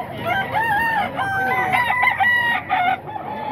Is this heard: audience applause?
no